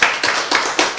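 An audience at a lecture claps briefly, a short burst of dense, close hand claps lasting about a second.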